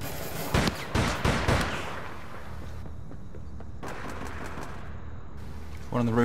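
Gunfire in APB Reloaded: several sharp shots in a quick cluster near the start, then a steady background hum, with a voice talking near the end.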